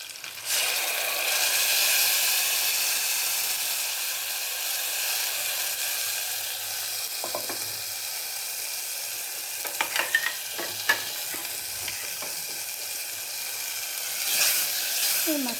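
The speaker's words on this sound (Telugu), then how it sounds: "ఈ మసాలా కొంచెం వేగాలండి." Masala fries in oil in a pan for a drumstick and brinjal curry, a steady hissing sizzle that runs throughout, broken by a few clinking stirs and scrapes of a spoon against the pan.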